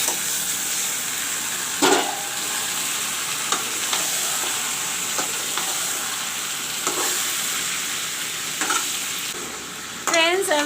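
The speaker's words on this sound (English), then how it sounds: "I will let this mutton fry a bit with the onions" Mutton frying with onions in a pan for mutton curry, a steady close sizzle with occasional stirring scrapes and clanks and a brief squeak near the end, no talk.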